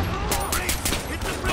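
Rapid bursts of enemy gunfire in Far Cry 4, a dense, continuous crackle of automatic shots with faint voices talking underneath.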